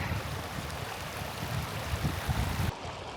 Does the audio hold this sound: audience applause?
no